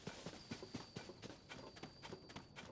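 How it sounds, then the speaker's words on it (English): Horse hooves clip-clop at a steady trot in Zelda: Tears of the Kingdom, a quick, even run of hoofbeats under a faint high tone, with no talk over them. "I wonder if we can just chase down a horse with a car."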